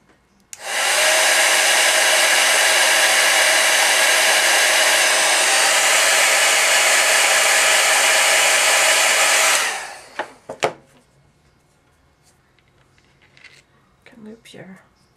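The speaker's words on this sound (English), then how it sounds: "you can use your heat gun to dry it" A heat gun dries glued string knots on a photo bracelet with a loud, steady blowing roar for about nine seconds, then cuts off, leaving small handling noises.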